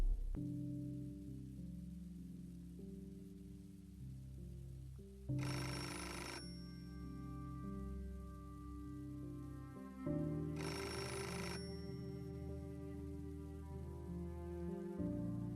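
Telephone in the PC game Beholder rings in two long electronic bursts separated by a pause, loud and close over a steady low in-game music bed.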